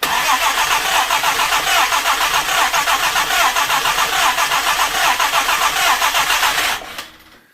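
A Jaguar E-Type 2+2 engine cranks continuously on the starter without catching, a loud, steady rhythmic churning close by for about seven seconds before it cuts off abruptly.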